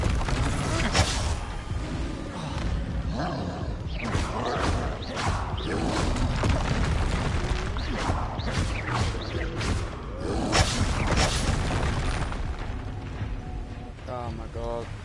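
Combat spell effects from Hogwarts Legacy, Confringo and Repulsor, go off in a loud run of whooshing blasts, thumps and bursts over rumbling game sound, while a voice talks over the action.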